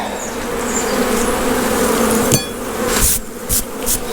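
Honey bees buzz steadily around a frame of honey pulled from a hive, a close continuous drone with a few sharper knocks and shuffles near the end.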